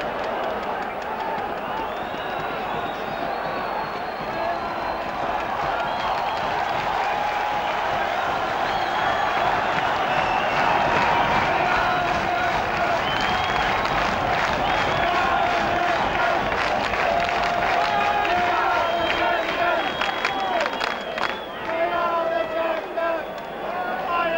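Rugby league crowd roaring and cheering after a conversion kick sails between the uprights, a loud sustained swell of many voices and applause with commentary running over it.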